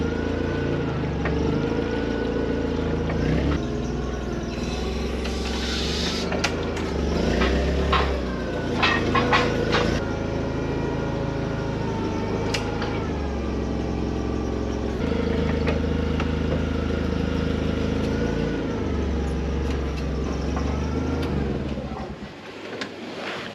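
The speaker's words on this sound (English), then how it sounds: "I think Daniel's pretty good at driving forklift." A forklift engine drones steadily, close and moderately loud, as the machine is driven on a farm, with occasional knocks and clanks over the running motor and no voices.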